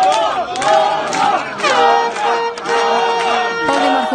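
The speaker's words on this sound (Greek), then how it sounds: "όπου τον υποδέχθηκαν οι υποστηρικτές του με χειροκροτήματα" Supporters at a Greek election center greet a winning mayoral candidate with an excited crowd roar: loud overlapping shouts and chanting voices surge in bursts close by, with little clapping audible beneath them.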